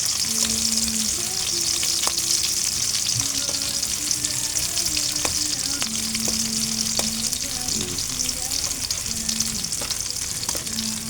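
Fish and onions sauté in a hot pan for a fish tinola, a steady close sizzle with scattered sharp pops and crackles running the whole time, no voices.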